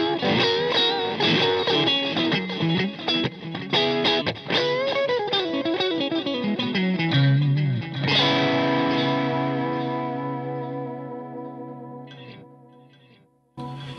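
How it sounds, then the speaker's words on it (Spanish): Electric guitar played through an Xotic AC Comp pedal set for overdrive like vintage tube amps, ringing out loud, gritty distorted chords and riffs, then a long sustained chord fading away before a final short strum. "yo puedo ensuciar un poco la señal, como tratando de lograr ese sonido de los amplificadores viejos de tubos"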